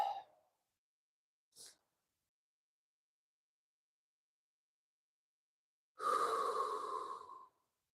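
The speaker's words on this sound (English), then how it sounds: "Take a really deep breath in your nose." A single slow, deep inhale through the nose during a guided relaxation breathing exercise, close and fairly loud, lasting about a second and a half after a long quiet pause with a couple of faint short breaths earlier.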